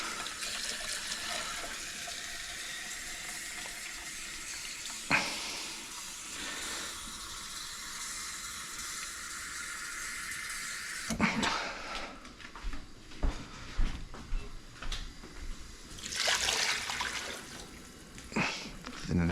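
Water runs from a kitchen tap in a steady hiss, interrupted by a few clunks and kitchen clatter partway through.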